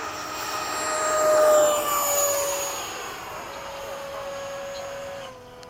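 A model F-5 jet aircraft flies at a model airfield. Its engine whine rises as it passes nearby, then fades and holds at a steady distant tone before cutting off.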